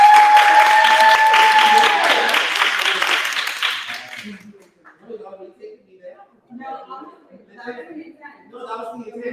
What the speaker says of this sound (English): Can we all give a round of applause for Sheila?